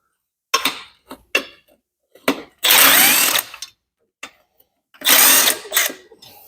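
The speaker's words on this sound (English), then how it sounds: "They're quite good, these, but they don't tighten things up as much as" Power ratchet loosening bolts on a Vauxhall Corsa B GSi during a clutch replacement: several short bursts of loud, close buzzing ratchet whirr, two longer runs, separated by quiet gaps and small clicks.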